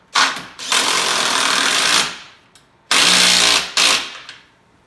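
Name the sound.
impact driver tightening ski assembly nut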